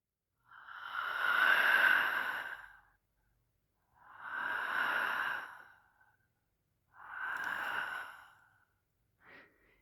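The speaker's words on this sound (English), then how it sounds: "just breathing." Slow, heavy breathing from a video game character, three long drawn breaths evenly spaced, close and alone, ending with a short fourth intake.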